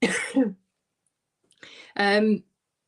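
A short throaty cough after a brief spoken phrase, followed by a pause and a voiced exhale that sounds like a laugh or cough.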